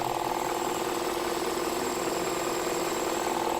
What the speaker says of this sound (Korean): 이 엔진 소리 진짜 끝내주네요.